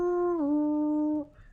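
A human voice imitates a wolf pack's howl during a reading of The Hobbit: one sustained, tonal 'awoo' that dips slightly in pitch, then holds for over a second before cutting off. It is close and alone.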